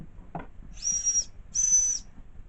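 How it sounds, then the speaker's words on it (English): Two short, high-pitched whistle blasts from a Jenson steam engine, each about half a second long, with a soft hiss around them. "I got your whistle"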